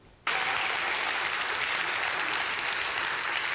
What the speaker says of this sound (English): All this applause is for you